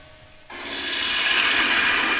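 A steel gouge cuts across the top rim of a thin-walled wooden bowl spinning on a lathe. After half a second of near quiet, a steady, loud, hissing scrape begins close by and continues with no talk.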